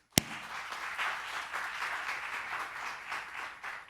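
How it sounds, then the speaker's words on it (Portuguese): Audience applause after a panel session at a conference on new forms of work and organisational culture, starting with a sharp onset and holding a steady, even wash of many hands for about four seconds, fairly distant and moderate in level. "Uma salva de palmas também"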